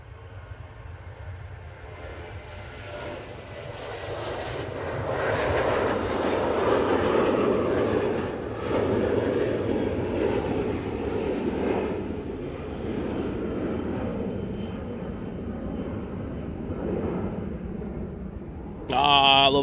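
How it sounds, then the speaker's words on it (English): A KLM Boeing 737-900 departs Manchester Airport for Amsterdam Schiphol, its engine rumble swelling and holding at moderate distance, with a brief sharp noise at the very end. "KLM 737-900 now going back to Amsterdam Schiphol"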